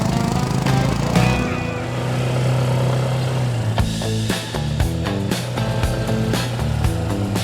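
A motorbike engine runs steadily nearby, a continuous droning rumble with shifting tones as the revs change, loud and without voices.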